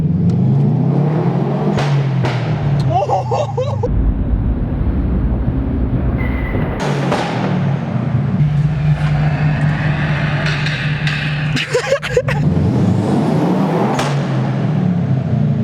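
A 2014 Subaru STI with a Cobb downpipe, its engine and exhaust very loud, surging through repeated revs and accelerations with sustained drone, brief gear-change gaps and sharp crackles along the way.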